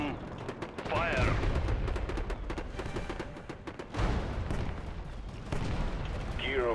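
Several heavy booms from a Soviet S-51 howitzer firing in a mobile real-time strategy war game come at spaced intervals amid a busy battle din, with voices speaking between and over the shots.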